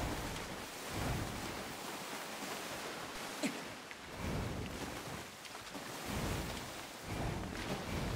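Waterfall in the video game Nier: Automata, a steady broadband rush of falling water with gentle swells in level, heard alone without voices at moderate loudness.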